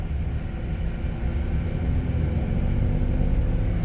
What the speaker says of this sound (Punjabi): ਅੱਗੇ ਅੱਗੇ ਲਈ ਫਿਰਨ ਡਿਆ ਟਰੈਕਟਰ